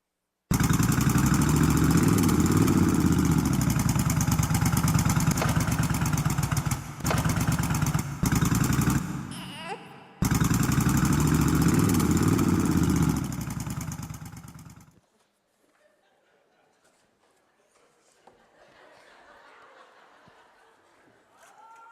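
A motorcycle engine idles loud and close for about fifteen seconds with a brief dip and restart, then cuts off, leaving faint background noise.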